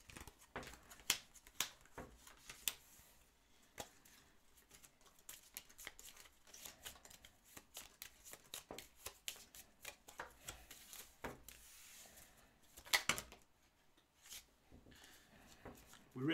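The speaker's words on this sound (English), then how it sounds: "All players shuffle all minions in the discard piles to their decks." Playing cards are shuffled during a game of Smash Up, a quiet stream of rapid papery riffles and rubbing taps continuing throughout, with faint background voices.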